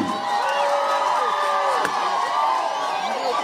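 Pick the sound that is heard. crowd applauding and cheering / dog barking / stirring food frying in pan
crowd applauding and cheering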